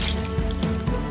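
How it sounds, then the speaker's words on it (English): Chicken broth pours into a crock pot in a short, close liquid splash with a few gurgling drips, loud and without talk. "I'm going to place my chicken broth, a cup of chicken broth in over them"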